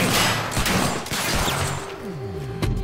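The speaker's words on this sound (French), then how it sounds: "J'avance vers l'ennemi avec le fusil à pompe" Shotgun blasts from the Quantum Break video game ring out in quick, fairly loud bursts as the player pushes toward enemies, mixed with game clatter and effects, with no talk.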